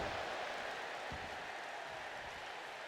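A video-game wrestling arena crowd in WWE 2K25 roars as a steady, dense wash of cheering and applause, with a faint rhythmic chant buried in the noise.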